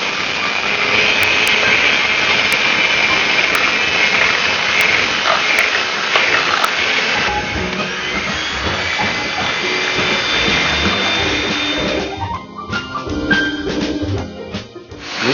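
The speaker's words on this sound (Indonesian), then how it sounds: "sekarang telurnya kita kocok hingga mengembang" An electric mixer whirs loudly and steadily as it beats eggs with sugar and fine salt for a marble cake, a constant high motor drone that shifts to a rougher, choppier whine near the end.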